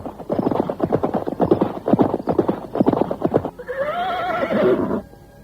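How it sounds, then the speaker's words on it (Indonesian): Two soldiers' horses trot closer, hooves clip-clopping in a quick steady rhythm, then one horse gives a loud, drawn-out whinny near the end. "2 orang prajurit berkuda datang menghampiri mereka"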